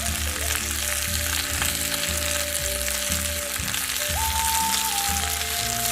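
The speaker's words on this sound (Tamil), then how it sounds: "எண்ணெய் சூடான பிறகு 10 சின்ன வெங்காயத்தை நறுக்குனதை ஆட் பண்ணிக்கோங்க." Chopped shallots, curry leaves and dried chillies fry in hot oil in a pan, a loud steady sizzle with soft stirring scrapes, heard close and without talk.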